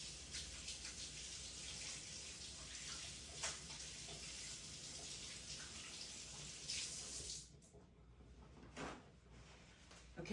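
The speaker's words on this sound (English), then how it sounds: "let me wash my hands, they feel icky." Hands washed under a running tap at a kitchen sink, a steady broadband splash of water for about seven seconds before the flow cuts off, followed by a few faint handling clicks and a final knock.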